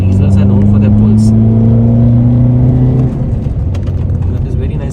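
Mercedes diesel car pulling hard under acceleration, its engine tone rising steadily for about three seconds before dropping off into road and wind noise, loud and close from inside the cabin, with someone talking over it.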